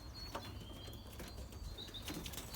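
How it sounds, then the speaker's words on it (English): Young Belgian racing pigeons flap their wings in flight, giving faint, brief flutters against a quiet outdoor background, with a soft chirp or two and no talking. "looks like a few are actually flying right now"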